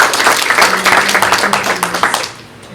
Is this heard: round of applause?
yes